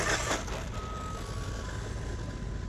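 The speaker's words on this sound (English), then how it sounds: "Oh, we got an ice cream truck." An ice cream truck passes by outdoors, a steady thin electronic beeping tone carried over a constant broad rumble of vehicle and street noise, moderately distant and even in level throughout.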